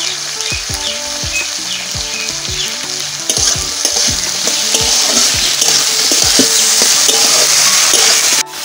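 Beans and potatoes fry in a pan for a village egg recipe, giving a steady loud sizzle with repeated scrapes and clatters of stirring throughout.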